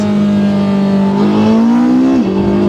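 A naturally aspirated hybrid sports car engine revs hard and loud at close range, a steady high drone climbing slowly in pitch before dropping sharply near the end, with no talk.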